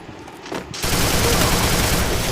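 Dense gunfire from the mobile shooter game Free Fire bursts in after a quieter moment, a loud continuous stream of rapid shots filling the rest of the clip without any speech.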